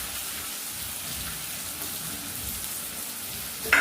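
Chopped tomato dropped into a pan of frying onion and spices for a village mutton curry, giving a steady, fairly soft hiss and sizzle throughout with a brief brighter crackle near the end.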